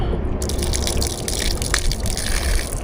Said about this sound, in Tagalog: Tanggalin ko lang yung tubig.